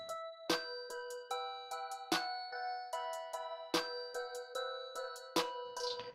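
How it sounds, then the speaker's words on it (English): A dark ambient trap beat with a chiming, bell-like melody, punctuated by a clap layered with a hard snare that cracks on a steady, evenly spaced backbeat, up front and alone. "Now what I like to do is layer my clap with a hard snare."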